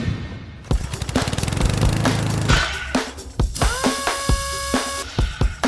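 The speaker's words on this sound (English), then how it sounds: "need to take the walnut and get it cut down to its final length" A miter saw at a workshop miter station cuts walnut boards to length, with a sharp motor whine and a rising, straining bite into the wood. Knocks and clatter follow as the blade spins down, all close and loud.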